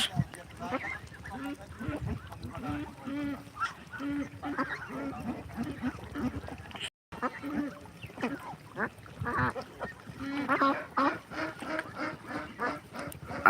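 Ducks at a farm give repeated nasal quacks and honks in irregular bursts, some overlapping, at moderate distance, with people's voices mixed in.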